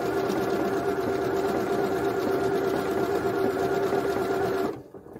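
A Janome embroidery sewing machine stitches out a memorized pattern, a steady close mechanical whirr with a strong hum that runs evenly and then stops abruptly near the end, finishing on a lock stitch.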